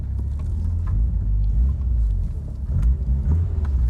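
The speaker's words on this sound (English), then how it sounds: "So it idles like super high." A Peugeot 205 GTI engine idling high with a fault, a loud steady low rumble with slight fluctuations, close by and without speech.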